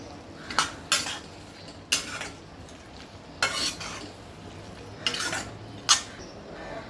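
Spoon scraping and clinking against a pan while gathiya and chopped coriander are mixed together, several sharp metallic knocks spaced irregularly over a soft background hiss.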